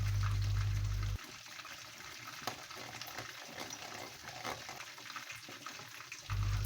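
Eggplant cooking in a pan with kerisik (toasted coconut), a steady close sizzle with light bubbling and stirring over a low rumble, running without talk.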